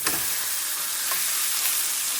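A seasoned steak sizzles in a frying pan, a loud, close, continuous hiss with faint crackles and no one talking.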